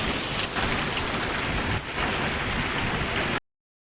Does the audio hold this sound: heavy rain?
yes